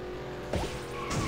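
Cartoon kart in the Beach Buggy Racing 2 racing game, with a steady engine drone broken by a sudden whooshing skid and tire squeal midway and another swoosh near the end, loud and close.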